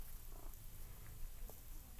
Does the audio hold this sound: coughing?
no